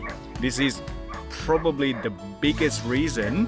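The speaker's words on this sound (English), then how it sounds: "Sorry about the dog barking" A dog yips and barks in short repeated bursts beneath someone talking continuously in the foreground.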